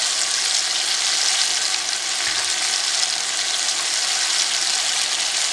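Whole spices and masala frying in a pot for jungli pulao, a steady close sizzle that hisses evenly throughout with no voices.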